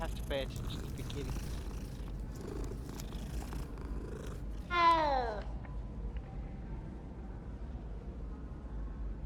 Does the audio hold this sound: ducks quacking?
no